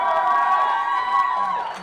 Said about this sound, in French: Encore un peu d'applaudissements.